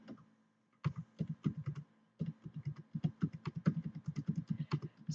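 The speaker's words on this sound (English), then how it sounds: "in column A, we just want to type in all of that data" Data is typed into a spreadsheet on a computer keyboard in two quick bursts of rapid, close key clicks with a short pause between them. The keystrokes are crisp, light and uneven, with no voices.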